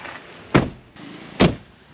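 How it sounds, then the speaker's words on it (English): Two solid thuds of a Citroën ë-C3 electric car door closing, about a second apart, each a short dull slam with a quick decay against a quiet background. "Door closing noise."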